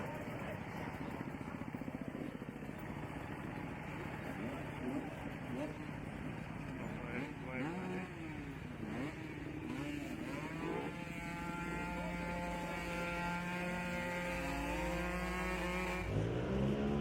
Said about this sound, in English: We're just trying to see if we can get some shots of these burnouts going on here.